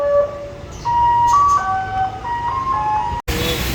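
Wall's ice cream van passing by, its chiming jingle melody playing steadily at moderate distance over low road rumble, cut off abruptly near the end.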